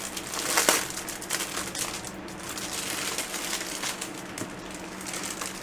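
Packaging being torn and crinkled open to unbox a keyboard, a run of close crackling rustles and crumpling bursts with small rips, steady and busy throughout.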